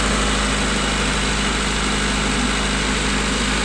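A 1992 Honda Accord engine idling after timing belt, water pump and idle air control valve work, a steady close drone with a constant low hum and no voices.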